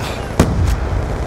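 A grenade explodes in the video game Call of Duty Black Ops II, a sharp loud blast followed by a second quick burst over dense battlefield rumble.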